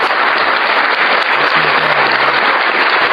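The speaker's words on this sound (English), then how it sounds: "Give me a round of applause." A round of applause plays as a steady, dense wash of clapping throughout, loud and unbroken with no voices over it.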